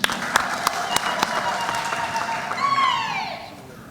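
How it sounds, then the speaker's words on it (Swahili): Applause from a political rally crowd in Kenya welcoming the party's secretary general, with sharp claps over a steady crowd wash, while a voice and whistle-like tones rise near the end. "Makofi kwa SG."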